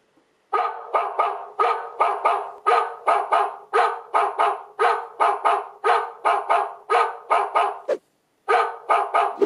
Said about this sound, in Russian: вплоть до лая собаки